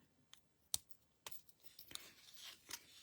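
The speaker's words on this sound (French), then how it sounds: "Alors, vous prenez vos ciseaux." Scissors snip through paper card in a few sharp, separate cuts with small rustles between, close and fairly quiet, no voices.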